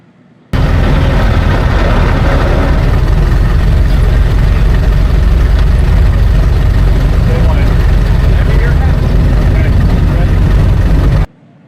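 A Ford Model T engine runs steadily at a hill climb event, a continuous low rumbling drone with chugging texture that holds close and loud for about eleven seconds before cutting off.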